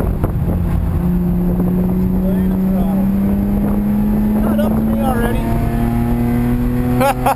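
A BMW E30 race car's engine pulls hard under full throttle on the VIR circuit, its steady tone climbing smoothly in pitch, loud and close from inside the cabin, with a brief clatter near the end.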